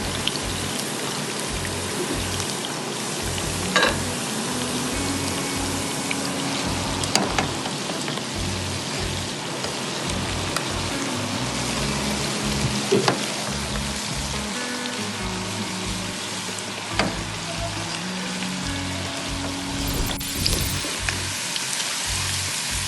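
Onions fry in hot oil in a pan for chicken curry with potatoes, a steady dense sizzle and crackle that runs on unbroken and close, with no talking.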